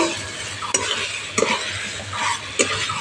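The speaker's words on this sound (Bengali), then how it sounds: "ভেজে রাখা আলুগুলো দিয়ে দিচ্ছি।" Potatoes fry and sizzle in a mustard and poppy seed spice paste while a utensil stirs them in the pan, steady close sizzling broken by a few sharp scrapes and clinks against the metal.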